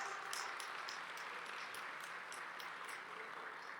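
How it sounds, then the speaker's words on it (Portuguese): Faint, distant applause from a youth conference audience, a steady wash of clapping for a few seconds with no speech over it. "pode aplaudir"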